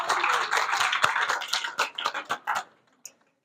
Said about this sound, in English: All right, C's, round of applause,